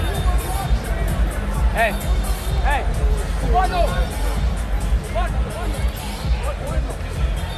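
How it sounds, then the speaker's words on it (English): A large boxing-event crowd buzzes at Radio City Music Hall after a fight, a dense steady babble of many voices with a few individual shouts rising above the din. "Crowd buzzing here at Radio City Music Hall"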